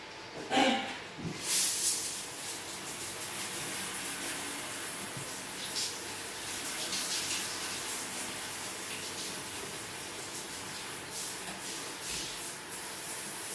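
A handheld shower hose rinsing down a bathroom shower, a continuous soft hissing spray of water that stays steady and fairly faint throughout, with a brief bump of handling noise near the start and no talk.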